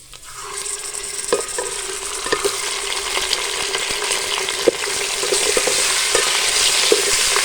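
Chicken fries in hot oil in a pot for corn soup, a broad hiss rising and holding steady while a spoon scrapes and taps the metal now and then, close up and with no talking.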